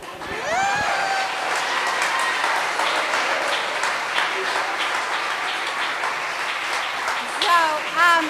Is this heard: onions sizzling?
no